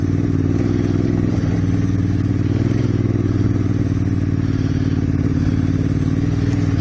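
A motorcycle ridden solo along a road in February, giving a steady, loud engine drone with constant low rumble and wind noise throughout, no talking.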